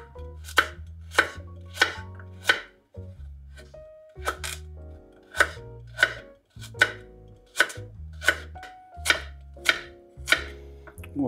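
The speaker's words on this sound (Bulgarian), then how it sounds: "След лука нарязваме морковете, пак на едри шайбички." Thick carrot rounds being chopped on a cutting board with a knife, steady sharp knocks in quick bursts of several strokes with short pauses, close and clear with no talking.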